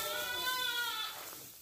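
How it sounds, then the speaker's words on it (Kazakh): A Romanov sheep ram gives a single drawn-out bleat, fairly faint and alone, fading at the end. "Романовский қочқор бұл дағы."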